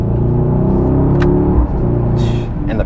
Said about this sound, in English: And you guys hear the exhaust, it's popping,